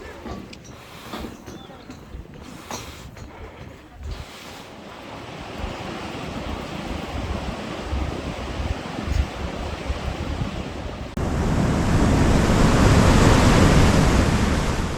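Waterfall on the Hantan River swollen after heavy rain, a broad steady roar of rushing water that builds and grows louder toward the end, with wind buffeting the microphone.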